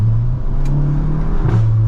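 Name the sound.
DSG gearbox exhaust fart on gear shift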